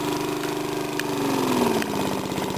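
A 1983 Caldor 20-inch lawn mower engine, freshly serviced, catches after a pull cord start and settles into a steady close, mid-pitched idle.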